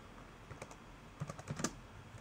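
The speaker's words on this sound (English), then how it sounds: "Okay, if I could type." Quick bursts of typing on a computer keyboard at a Windows command prompt, soft clustered key clicks in two short runs, the second run louder and denser, heard alone at fairly close range.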